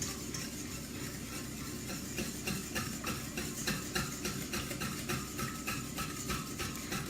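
Ingredients being stirred with olive oil in a bowl for a hot dog cake batter, a steady rhythmic series of soft scraping and sloshing strokes, close and moderately quiet, with no talking.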